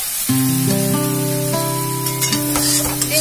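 Taro curry (kochu ghonto) with sugar and turmeric sizzles steadily as it is stirred in a pan, with a constant frying hiss and a few faint scraping clinks of the utensil, and no talk over it.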